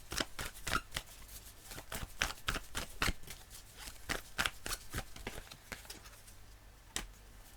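Tarot cards from an Illuminated Tarot deck being shuffled and drawn on a table, a quick run of crisp close flicks and snaps, fairly quiet and with no voice over them.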